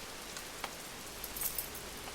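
Light rain patters softly and faintly, with a thin steady hiss and a few scattered drop ticks, and no voices.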